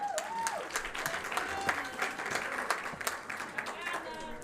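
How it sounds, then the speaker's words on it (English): Applause for Rhodes University at a research plan launch, steady clapping from a large audience filling the room, with voices over the start. "Round of applause for Rhodes University."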